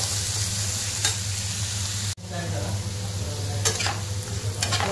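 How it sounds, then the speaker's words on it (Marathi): Chopped onion and tomato frying in a pan for matar paneer masala, a close, steady sizzle with intermittent stirring scrapes and a brief break midway before the frying continues. "आपण एक कांदा घेतलेला आहे, टोमॅटो कापलेला, त्याला पण फ्राय करून घेणार आहे"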